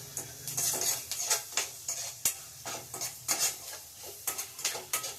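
Ginger and garlic fry with salt in a pan, a steady sizzle under rhythmic spatula stirring and scraping against the metal, close and fairly quiet, with no voices.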